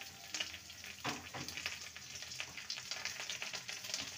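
Ginger and garlic paste sizzles in hot oil in a pan while a spoon scrapes and stirs it in short strokes, with a soft, steady crackle throughout.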